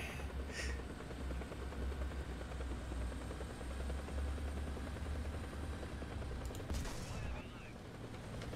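A helicopter in the video game War Thunder thrums continuously at low pitch, with bursts of distant gunfire and a couple of sharp crackling hits layered over the drone.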